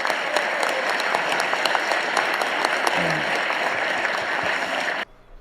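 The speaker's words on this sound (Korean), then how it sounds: "박수라도 한번 주십시오." Audience applause at a Korean public event: a full, steady burst of many hands clapping close by, sustained for about five seconds before cutting off abruptly, with a brief murmur of voices underneath.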